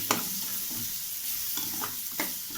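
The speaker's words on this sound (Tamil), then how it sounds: "மசாலெல்லாம் போட்டு நல்லா மிக்ஸ் பண்ணிக்கலாம்." Masala being stirred and fried in a pan for a noodle dish, a steady sizzle under repeated scraping strokes of the spoon against the pan, close and continuous with no talk.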